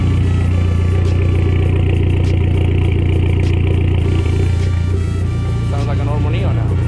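A Dodge Neon SRT-4 engine idling after a timing repair, a steady, loud rumbling hum with light mechanical clatter, close up and unbroken, with a faint rise near the end.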